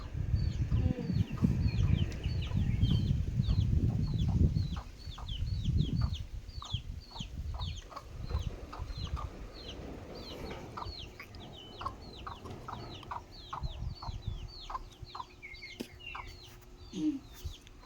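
A flock of chickens clucks in a quick, busy chatter on a rural farm, many close calls repeating throughout, with low rumbling noise early on and faint talk in the background.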